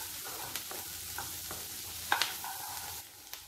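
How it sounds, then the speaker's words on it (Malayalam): Onions sautéed in a pan for chicken kuruma sizzle steadily up close, while a spoon scrapes and clinks against the pan in scattered strokes, a couple of sharper knocks standing out. "നല്ലതുപോലെ വഴറ്റിയെടുക്കണം കേട്ടോ"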